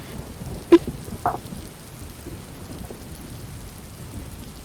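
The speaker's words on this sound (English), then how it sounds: "I'm trying to be heard inside a house during a thunderstorm." Steady rain hisses throughout, heard from inside a house, with a couple of sharp thunder cracks early on before the downpour settles into a constant wash.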